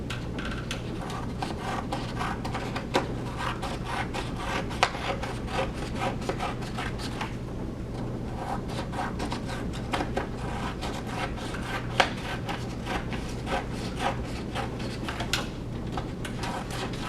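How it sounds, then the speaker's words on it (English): Scissors cut long paper strips for an animal mask craft, a continuous close rasping and rubbing with small irregular snips and clicks over a steady low hum. "in these long strips, and then I'm going to cut them once in half."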